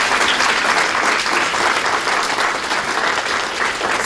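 Audience applauding for panelists at a training event, loud, dense and sustained clapping throughout, with no talking.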